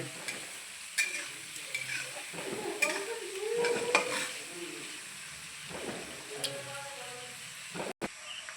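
Onions sizzle in a pan while being stirred until brown, a close hiss broken by repeated scraping stirs and clinks, with faint talk in the background.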